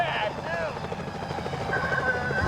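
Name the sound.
security helicopters flying in Sly Cooper video game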